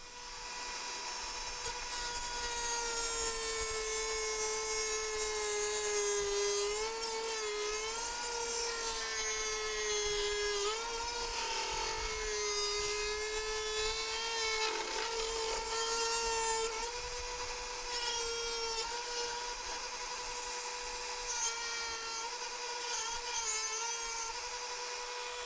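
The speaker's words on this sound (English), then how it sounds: "With the Dremel, I can actually come in like this and just, take that out quite easily" A Dremel rotary tool whines at a high pitch while cutting plastic on an Ioniq battery upgrade, its tone wavering and dipping as it bites into the material, steady and continuous for the whole stretch.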